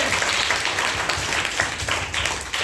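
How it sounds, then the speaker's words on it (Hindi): Students in a classroom clap loudly together, a dense continuous burst of applause that holds steady from start to finish with no talking over it. "जोरदार ताली बजा दीजिए"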